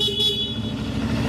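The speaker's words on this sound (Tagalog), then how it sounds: "Busina." Horn of a 2024 CF Moto 450 MT adventure motorcycle, a steady tonal honk held for just over a second, close and fairly loud over a low engine idle.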